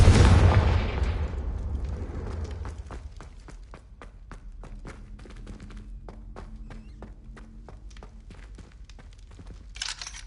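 Confringo blasting spell in a wizard video game, a loud explosive boom that rumbles away, followed by a quick run of footsteps and small thuds, with a short burst of hiss near the end.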